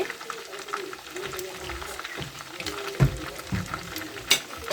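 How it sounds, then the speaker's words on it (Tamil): Mutton biryani with rice being stirred in a pot, with scraping clatter and a soft sizzling, bubbling bed underneath, a few sharper knocks of the spoon against the pot standing out. "ஒரு கிண்டிட்டு இப்போ நான் வந்து உப்பெல்லாம் கரெக்டாக இருக்கான்னு பார்த்துக்கலாம்"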